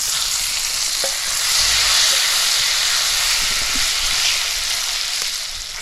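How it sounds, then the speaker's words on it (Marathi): Tomatoes sauté with red chilli masala, turmeric and garam masala in a pan over a wood-fired stove, a steady close sizzle and hiss with occasional stirring scrapes. "लाल मसाला आणि हा गरम मसाला मसाले असे चांगले असे परतून घ्यायचे आणि त्याच्यात आपल्याला हे टॉमॅटो टाकायचं आहे"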